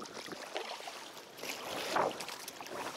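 Gusty wind buffets the microphone in an open riverside clearing on a river rafting trip, a steady broadband rush that swells and eases with one stronger gust midway.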